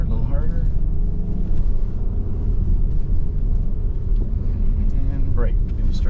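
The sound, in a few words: Acura MDX A-Spec driving on Blizzak winter tires on a winter track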